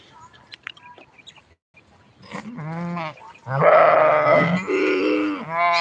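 Several loud, nearby goat and sheep bleats, overlapping and drawn out, after a few soft rustles and grunts.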